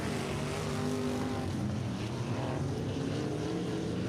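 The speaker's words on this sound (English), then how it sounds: "17X catching up to Hayden Mabe quickly, wanting his position back, goes to the inside." Race cars roar around a Friday night short track, several engines droning loudly and continuously with shifting pitch as they battle for position, heard at some distance with no talk.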